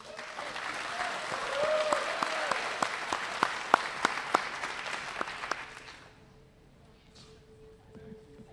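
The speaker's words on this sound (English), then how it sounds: "Please join me in giving them a round of applause." Applause from a banquet audience at a high school agricultural program's spring event, steady broadband clapping with a few sharp individual claps, fading out after about six seconds into near quiet.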